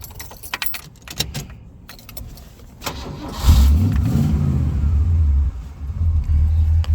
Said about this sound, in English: Let's go ahead and start the car. I'll let you listen to it.